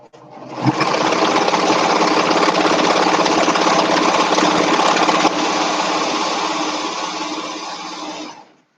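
A serger sewing machine stitches a drawstring bag, its motor starting abruptly and running in a loud, steady high-speed whir for several seconds, then easing slightly before stopping.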